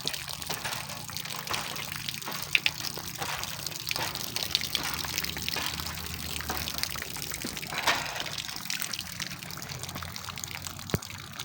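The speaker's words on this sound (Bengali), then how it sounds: "সব কিছু পানি জমা করে নিই" Water runs steadily into containers being filled to collect it, a constant close splashing trickle with no voices.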